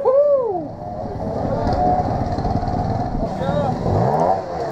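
Trials motorcycles on the final lap of a women's British trials championship round, engines revving and labouring steadily throughout, with a commentator talking over them.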